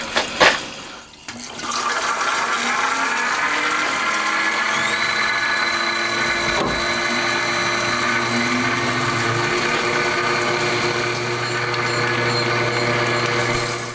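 Crankshaft grinding for a handmade 125cc four-cylinder, 16-valve engine: a steady, loud machine whine with a continuous motor hum, starting after a brief clunk and running evenly throughout with no talk.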